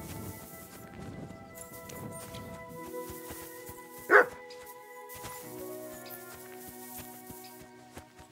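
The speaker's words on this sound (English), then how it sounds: "Barking." A dog barks somewhere off from an open doorway, one short loud bark rising clearly above a quiet room, with soft background noise before and after.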